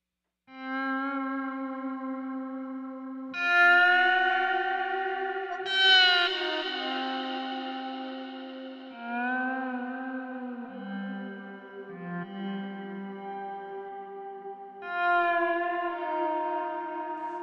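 Electric guitar through a Quartarone Reveries pedal set to a slow attack, notes and harmonies swelling in smoothly without a pick transient, sustained and layered with a heavy echo and reverb wash, alone with no talking.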